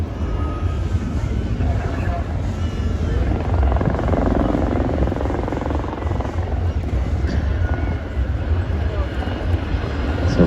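A helicopter with a Fenestron shrouded tail rotor flies at the Ayr air show in Scotland, giving a steady, loud rotor and engine roar throughout with wind buffeting, and someone talking over it.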